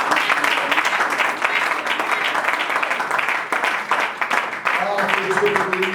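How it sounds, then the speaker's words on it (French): A church congregation applauds and cheers for Jesus in dense, continuous clapping that holds steady throughout, with voices calling out over it and a brief tonal cry near the end. "Acclamons Jésus."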